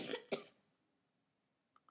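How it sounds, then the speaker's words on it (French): Two quick coughs close by, followed by silence and then two faint short clicks. "c'est pas moi qui tousse, hein, c'est mon petit frère, juste à côté."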